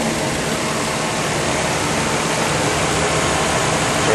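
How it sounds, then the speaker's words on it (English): A Nissan Skyline R34 GTT turbo with Tiptronic gearbox idles quietly, heard up close as a smooth, even hiss-like hum without any change throughout. "See how quiet the engine is."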